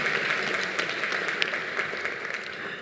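Sustained applause from an awards ceremony audience, dense and steady throughout, with a few sharper claps standing out from the crowd.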